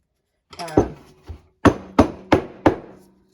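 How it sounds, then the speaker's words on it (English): Several sharp knocks on a wooden work table, an uneven handful of solid thuds, close and loud, with short gaps between them. "give it a good couple of knocks on the work table"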